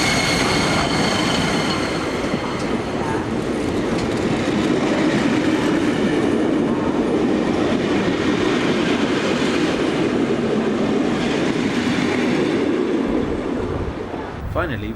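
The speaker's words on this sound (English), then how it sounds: "SBB RE44 11236 departs with the local stopping service for Lausanne." SBB RE44 electric locomotive pulling out with a local stopping train bound for Lausanne, a steady close rumble with clattering wheels and a faint squeal, fading slightly near the end.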